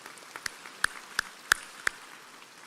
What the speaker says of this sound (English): let's give her a round of applause also